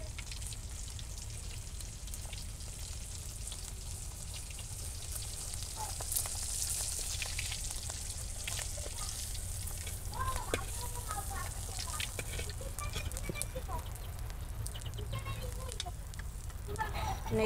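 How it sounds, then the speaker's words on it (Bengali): Teasel gourd pieces fry in a pan with a continuous, moderately quiet sizzle. Scattered pops and crackles grow busier toward the end. "এইগুলো ভেজে নিই"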